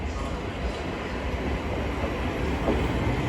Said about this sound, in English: As incoming now is the 1627, I think it is. Thameslink service from